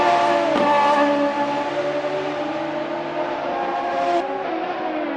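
Radical SR3 race car engine in a sim racing game at Sebring International Raceway, a loud, high revving drone holding steady with slight pitch shifts and brief gear-change dips, with no voices.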